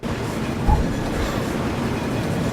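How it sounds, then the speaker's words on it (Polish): A train rumbling in the distance in the video game Afterfall Reconquest: a steady, dense low roar that holds across the whole stretch, with a brief thump near the start. "Jedzie pociąg z daleka."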